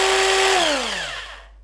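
Electric motor spinning down while driven as a generator, loud whining tone that glides steadily lower in pitch over about a second and a half before fading out.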